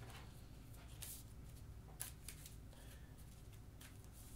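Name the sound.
shuffling playing cards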